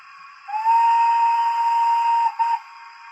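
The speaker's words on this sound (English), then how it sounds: "which is a whistle with an echo." A DCC sound-fitted model of an LSWR T3 4-4-0 steam locomotive, number 563, gives one long, clear steam whistle with echo, held steady for about two seconds, with a brief second blip before it fades.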